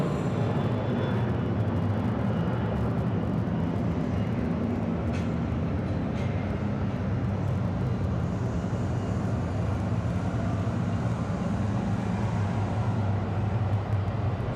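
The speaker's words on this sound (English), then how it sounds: "Looks like we got another cargo plane." A cargo plane passes at a hazy Atlanta Hartsfield-Jackson International Airport, giving a continuous broad jet roar that stays loud and even for about fifteen seconds, with no voices.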